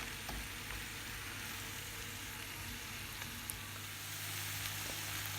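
Turkey stir fry cooking in a covered pan gives off a steady, soft sizzle that holds evenly throughout, quiet and continuous with no talking.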